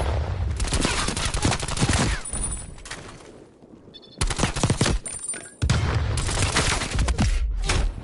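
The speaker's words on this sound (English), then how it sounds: "Incoming artillery" An incoming artillery strike in the Modern Warfare video game, heard as loud, dense rolling booms and rapid bursts of gunfire that fill most of the span, with a short lull in the middle before the barrage resumes.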